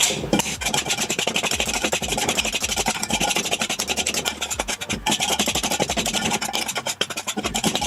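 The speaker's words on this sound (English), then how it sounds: "to mix that in together, I just use a couple of knives" Two table knives cutting butter and cheese into a cheese scone flour mixture in a bowl, giving a continuous close rasping and scraping with quick repeated strokes, steady throughout.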